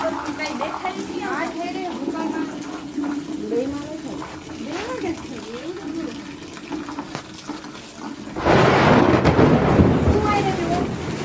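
A nighttime unseasonal summer thunderstorm with heavy rain makes a steady wash of rain beneath people talking, then a loud, sudden burst of thunder and downpour near the end.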